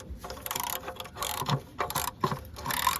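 Ratchet clicking as a magnetic oil drain plug is screwed back in during an oil change on a 1995 C4 Corvette: close, irregular bursts of mechanical clicks come in quick short runs with brief pauses between them.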